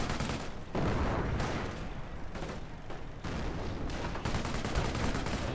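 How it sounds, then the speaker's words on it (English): Machine gun fire in a strategy game battle, with repeated rattling bursts and distant booms of other weapons layered over a steady background of combat. "This MG is in green cover"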